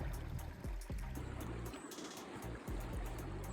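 A creek runs over its bed below Takara Mountain at Takara Campground in Jasper, a steady close babbling rush with faint intermittent clicks and no talk.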